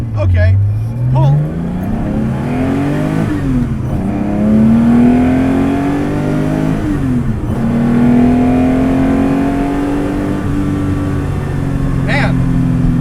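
A 350 HP GProgramm resto-mod 1979 Porsche 911 pulls hard, its engine climbing through the revs in a loud, close run with a shift partway, briefly under talk.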